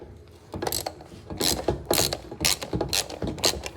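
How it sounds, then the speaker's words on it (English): A hand ratchet turning on a truck transmission: rapid clicking pawl bursts in a steady back-and-forth rhythm, close and fairly loud with no talking. "And then I just take and ratchet"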